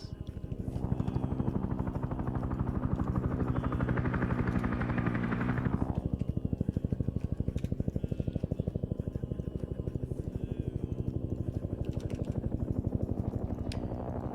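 A helicopter in the video game Arma 3 flies overhead, its rotor thumping in a loud, steady rhythmic chop that swells, then eases back to a continuous drone.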